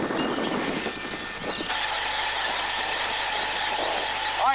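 A vehicle engine starts and settles into a steady idle to power an electric winch through its alternator, a low continuous hum following an initial burst of start-up noise.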